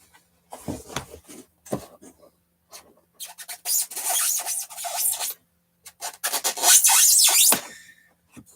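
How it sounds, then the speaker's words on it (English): A knife cuts apart two pieces of glued-together foam along the glue seam while building Deathscythe Gundam cosplay armor, giving irregular squeaky, raspy bursts that grow longer and louder toward the end, with pauses between. "That squeaking sound you hear is what you want to hear if you have to cut away two pieces of foam that you glue together"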